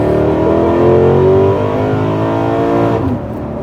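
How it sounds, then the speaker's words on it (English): A Holden ute engine revs hard at wide open throttle, a loud close mechanical roar with rising harmonic pitch that holds, then drops off near the end as the throttle eases. "Can I go wide open throttle? Yeah, pound on it."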